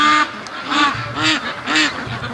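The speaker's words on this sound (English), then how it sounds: "that's what happy ducks do when there's no predators bothering them. They wake you up really early." Free-range ducks quack loudly early in the morning, several close, nasal quacks in a rough repeating rhythm, with no talking.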